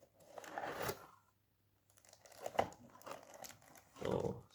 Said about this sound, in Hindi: अब हम इसको अनबॉक्स करते हैं